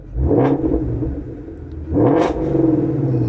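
Ford Mustang GT350 engine in sport mode revving twice, each blip a loud rising roar that settles back to a deep rumbling idle between and after the revs.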